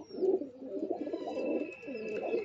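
Soft, low pigeon coos repeat close by, overlapping in a gentle murmuring rhythm, with faint chirps and a thin high tone in the background.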